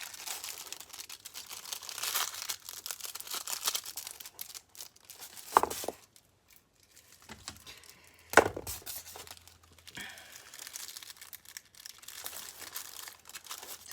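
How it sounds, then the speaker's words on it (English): Cellophane torn and crinkled by hand while making a craft candle, close crackling and tearing bursts with a few sharper rips and short pauses between. "Put a hole in some cellophane"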